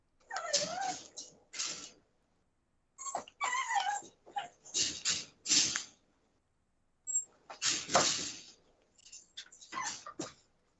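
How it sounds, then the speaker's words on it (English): Puppies whimper and yip in short, high, wavering bursts that come in clusters with brief pauses between them, close by and fairly soft. "I hear the puppies."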